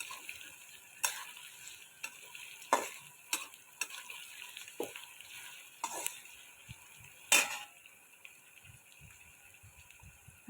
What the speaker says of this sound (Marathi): अद्रक लसूण पेस्ट, इलायची पेस्ट टाकून मिक्स करायचा